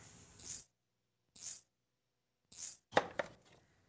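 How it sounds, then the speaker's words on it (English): A knife cuts butternut squash into half-inch cubes on a board, making three separate crisp chops with pauses between them, then a quicker cluster of cuts and knocks near the end. The sound is close and fairly quiet. "Cut the squash into one half inch cubes."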